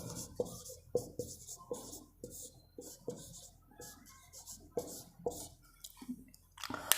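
Chalk or marker scratches and taps on a board in short irregular strokes, close and quiet, with a few sharper knocks scattered through.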